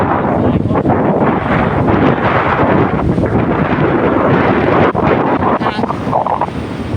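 Strong monsoon-season wind at the Pattani seashore in Thailand buffets the microphone in loud, continuous gusts, with a roar of surf underneath.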